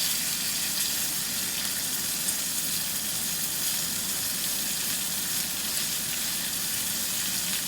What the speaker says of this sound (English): You can see how it is in the pan. You can see how it sizzles.